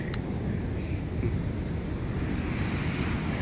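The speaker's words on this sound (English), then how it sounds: "big waves." Heavy surf rolls and crashes continuously, a broad roaring wash of waves with wind buffeting the microphone.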